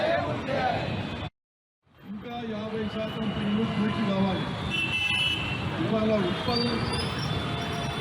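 Busy road traffic rumbles steadily with a couple of car horn toots, after a brief silent gap near the start.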